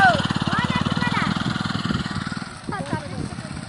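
Motorbike engines idle and putter close by with a steady low pulsing throb, while people talk over the running motors.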